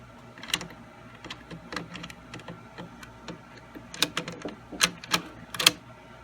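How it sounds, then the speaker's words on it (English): Metal parts of a Remington 581 rifle bolt clicking and scraping as the bolt is reassembled by hand, a string of small sharp taps and clacks, near and moderately loud, busier toward the end, with no talk. "Okay, so I just finished cleaning the 581. I want to put it back together finally this time."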